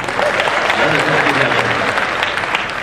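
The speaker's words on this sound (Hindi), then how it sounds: "वो जोरदार तालियां बजा दें" Audience applause at a lively stage show, a steady dense wash of clapping from a crowd, moderately loud and continuous with faint voices underneath.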